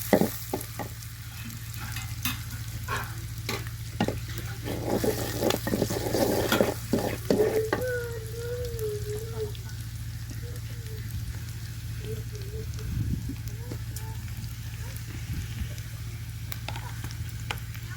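Chopped onion and garlic fry in a pan for a fish curry, giving a soft continuous sizzle with scattered stirring scrapes, loudest early on and settling into a quieter crackle.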